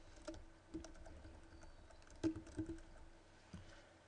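Computer keyboard keys pressed in a few sparse, light taps during data entry in scheduling software, quiet and close with faint background hum and no talk.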